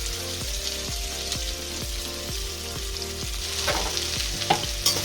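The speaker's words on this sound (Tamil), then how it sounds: "வெங்காயம் நல்லா வதங்கட்டும்." Chopped medium onion frying in oil in a pan, a loud continuous sizzle with rhythmic scraping of a spatula stirring, close up and with no talking.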